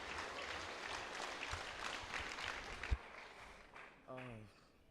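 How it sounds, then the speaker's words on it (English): An audience at a school debate round claps for a student speaker, heard quietly and at a distance. The clapping is scattered and fairly faint, then breaks off suddenly, and a short tonal sound follows just before the end. "Round of applause for him"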